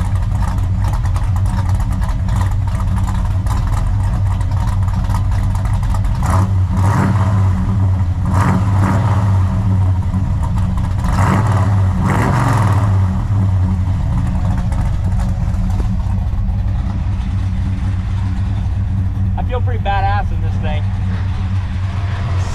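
A 1970 Dodge Super Bee with a V-code 440 Six-Pack V8 idles with a deep, loud rumble and swells in several revs, heard up close as a steady low drone.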